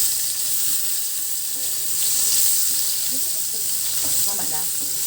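Onion and garlic sizzle steadily in a hot pan, a close, continuous frying hiss with faint clinks of stirring near the end.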